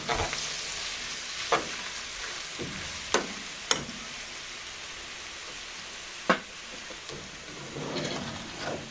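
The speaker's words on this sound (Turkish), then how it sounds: "Kabağımızı da döktükten sonra karıştırıyoruz." Dried squash is stirred as it fries in a pan on top of a home stove: a continuous crackling sizzle with a few sharp scrapes and knocks from the utensil at irregular intervals, close up.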